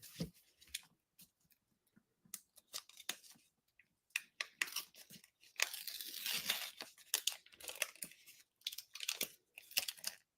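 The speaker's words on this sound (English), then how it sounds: "First, I get to battle with my release paper." Release paper is peeled and wrestled off for a craft project, giving a series of close, irregular crinkly tearing and rustling bursts with short pauses, busiest in the second half.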